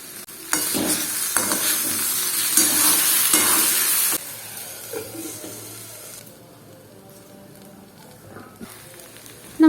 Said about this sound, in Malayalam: നമുക്ക് ഇടയ്ക്കൊന്ന് തുറന്ന് ഇളക്കി കൊടുക്കണം